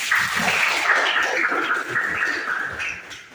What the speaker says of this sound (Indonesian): Oke, tepuk tangan dulu begini.